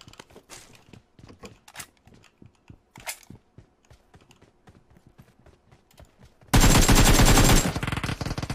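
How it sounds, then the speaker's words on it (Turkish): An Uzi submachine gun fires in the PUBG Mobile game: sparse scattered shots and footstep-like clicks give way to one loud, dense burst of rapid automatic fire lasting about a second, followed by a steady, fainter noise. "uzi sıktı. Aldınız sesi."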